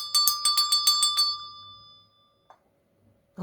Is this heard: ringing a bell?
yes